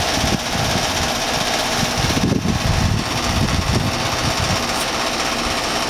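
A Broan 3-ton heat pump runs outdoors after heavy rain in freezing weather, a steady mechanical fan whoosh and low hum that stays constant with no talking.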